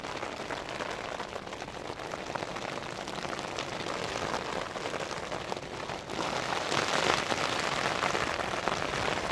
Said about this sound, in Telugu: ఇప్పుడు నేను టెంట్ లోపల ఉన్నా కదా, సో వర్షం వస్తుంది కదా